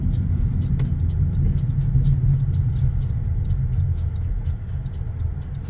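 A car on a driving road test in Lower Sackville, Nova Scotia, heading toward a stop sign, gives off a steady low engine and road rumble heard from inside the cabin, with faint ticking above it and no voices.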